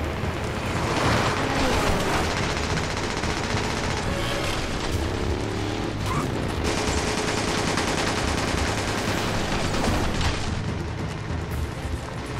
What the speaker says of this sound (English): Listen to that fucking gun.